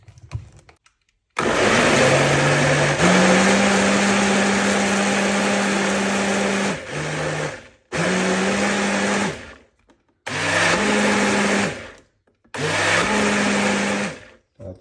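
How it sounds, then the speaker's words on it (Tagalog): A blender whirs a mango and strawberry smoothie in several loud bursts: one long run of about five seconds, then three shorter pulses separated by brief silences. "I-blend lang natin ulit."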